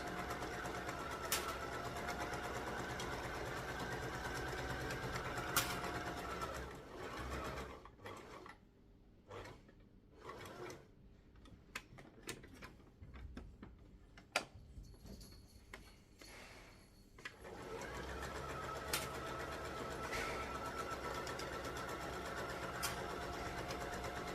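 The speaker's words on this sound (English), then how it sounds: "put my presser foot down and keep sewing again" A sewing machine runs in steady stitching bursts while a garment is sewn all the way around, its loud mechanical whir continuous at the start and end, with quieter stops and starts through the middle.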